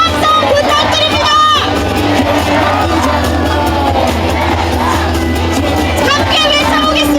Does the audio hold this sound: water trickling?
no